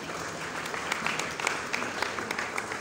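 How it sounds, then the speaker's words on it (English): An audience claps at a church workers' dinner, a dense, even patter of many hands with a few sharper claps standing out, continuous and fairly close. "Please put your hands together for the Lord"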